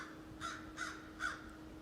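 Outdoor crow cawing from the trees: three harsh caws at an even pace, moderately near, over a steady low hum, with no talking.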